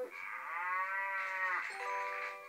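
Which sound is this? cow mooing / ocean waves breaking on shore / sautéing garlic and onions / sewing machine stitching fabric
cow mooing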